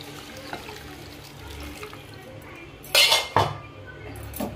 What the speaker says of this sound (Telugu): ఇప్పుడు ఇందులో ఒక గ్లాస్ వాటర్